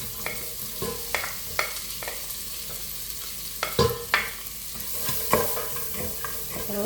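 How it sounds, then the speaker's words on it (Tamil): Onions sauté in butter in a pan, a close steady sizzle broken by repeated spatula scrapes and knocks against the pan at an uneven pace. "ஒரு நிமிஷம் நல்லா வெங்காயத்தை வதங்க விடுவோம்."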